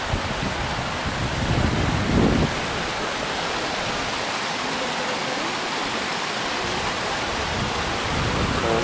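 A small, turbulent river rushes noisily beneath a wooden footbridge, a dense, loud, unbroken roar of churning water close by.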